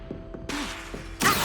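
The Incendio fire spell in Hogwarts Legacy is cast in quick bursts, with soft thuds followed by a rushing whoosh of flame that flares up loud and then again near the end.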